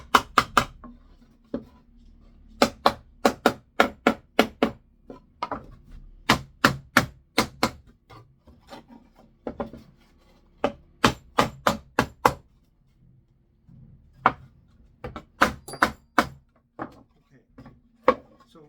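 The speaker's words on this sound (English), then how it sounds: "so we'll just use a hammer to finish it off" Hammer blows driving nails into a wooden Redstart/Spotted Flycatcher nest box, sharp close knocks in quick bursts of several strikes separated by short pauses.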